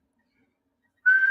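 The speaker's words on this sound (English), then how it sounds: "Oh, it does start with whistling." A person whistles the opening of a song, a single clear sustained tone entering abruptly near the end after silence, loud and close with no talk.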